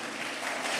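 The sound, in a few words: congregation applauding in church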